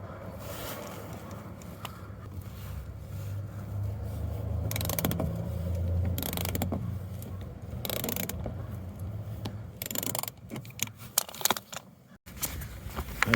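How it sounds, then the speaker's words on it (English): An 8mm socket wrench ratchets a bolt loose under a 2004–2009 Mazda 3 during a headlight swap, with soft repeated clicks and metallic handling noises close by over a low background hum, and no talking. "I'm gonna use an 8mm socket wrench to remove it."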